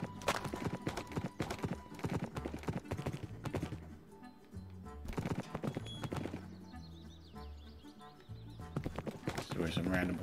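Horse hooves clip-clopping in the Minecraft video game, a rapid run of sharp hoofbeats with brief pauses, loud and close, accompanied by game sounds and a talking voice.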